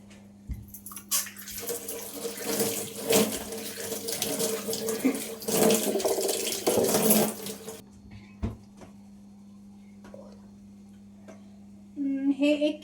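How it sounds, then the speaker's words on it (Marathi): Carrots washed under a running kitchen tap, water gushing loudly for several seconds with splashing and handling, then stopping, followed by scattered clinks and handling noises. "आता आपण गाजर धुवून घेऊया."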